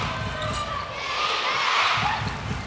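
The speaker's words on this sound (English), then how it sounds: "You can hear the Adelaide Thunderbirds crowd." Adelaide Thunderbirds netball crowd at a Suncorp Super Netball match against the Fever, calling out and cheering in a rising wash of voices, with a commentator talking over it.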